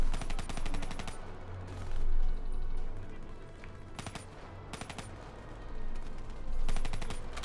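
Rapid bursts of automatic gunfire in the Call of Duty Black Ops 3 campaign, loud close volleys in several clusters separated by short lulls of combat ambience.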